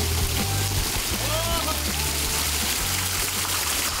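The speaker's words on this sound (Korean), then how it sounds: "시원한 폭포를 맞으며 친환경 워터파크를 즐겨봅니다" A cold underground-fed waterfall pours into a swimming pool at a mountain home, giving a steady, close rushing splash that holds throughout, with faint voices in the background.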